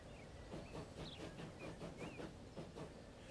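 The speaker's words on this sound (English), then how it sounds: "Oh, look, it's a train." A train in Transport Fever 2 rolls past with steady rumbling and rhythmic clickety-clack of wheels, a continuous rushing drone that stays even throughout, faint overall and without voices.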